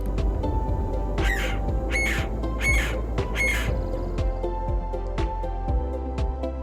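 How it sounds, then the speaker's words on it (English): An agitated woodpecker calls from trees in a canyon near Lake Tahoe, four harsh squawks in quick succession followed by sharp repeated chips, fairly close and loud over quiet outdoor background. "It's a pissed off woodpecker behind me."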